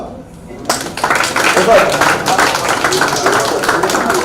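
An audience at an entrepreneurship training on land acquisition and housing bursts into clapping that starts abruptly and continues steadily as dense applause, with a speaker's voice briefly over it.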